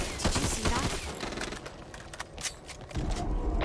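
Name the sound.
gunfire shooting zombies in the video game Back 4 Blood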